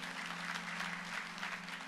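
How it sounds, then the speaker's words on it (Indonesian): A church congregation applauds, steady mid-level clapping over a low sustained hum, continuous for the whole stretch without speech. "Berikan tepuk tangan bagi nama Tuhan."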